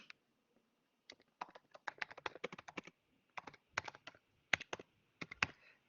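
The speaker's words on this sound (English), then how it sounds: "let's try typing" Rapid computer keyboard typing in uneven bursts of sharp, close clicks, pausing briefly between runs, with no voices over it.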